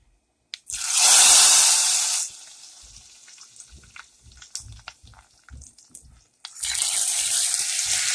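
Hot dal tadka tempering hits a pot of dal with a loud, hissing sizzle and splash lasting about a second and a half, followed by quieter clinks and stirring, then another long sizzling burst at the end.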